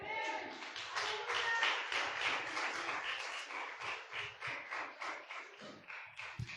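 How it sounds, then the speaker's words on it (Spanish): Sustained applause from a church congregation: dense, steady clapping that fills the whole stretch at close range and stays lively from start to finish. "Un fuerte aplauso al Señor Jesucristo."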